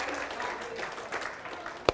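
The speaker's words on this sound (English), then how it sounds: "Give him a big round of applause." Light, scattered clapping from a family audience at a magic show greets a five-year-old volunteer, fairly faint and uneven over two seconds, ending in a single sharp knock or clap.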